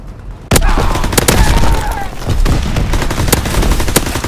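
Rapid MP40 submachine-gun fire in a WWII shooter game, loud sustained bursts starting abruptly and continuing with sharp individual shots throughout.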